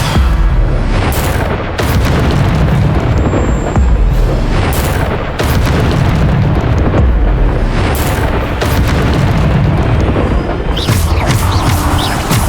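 Repeated Bombarda explosion spells in Hogwarts Legacy, loud booming blasts one after another, dense and continuous with rumbling bursts throughout.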